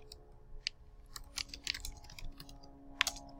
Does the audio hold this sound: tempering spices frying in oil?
no